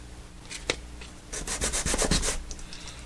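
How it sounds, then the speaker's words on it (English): Sandpaper rubs against a 3D printed junk tire in short bursts, a close scratchy rasp that starts with a few strokes and then speeds into a quick run of rubbing strokes. "Sand it to where you see fit, and then go ahead and clean it off."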